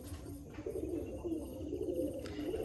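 Black-beaked pigeons coo softly at a pigeon seller's place near Baruipur, a low, warbling, repeated coo that stays faint and close against a quiet background.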